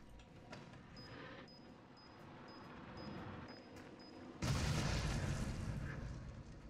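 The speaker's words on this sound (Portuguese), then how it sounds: "Vamos usar a bomba." Bomb detonating in Resident Evil 7: after quiet game ambience with a repeating faint high tone, a sudden loud broadband boom hits and rumbles on, decaying slowly over several seconds.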